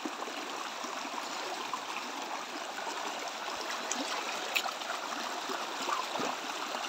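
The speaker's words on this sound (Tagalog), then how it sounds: "Ito po, ilog po itong malaki." Steady rushing water of a large mountain river, a constant broad wash with faint trickles, moderately distant and unbroken.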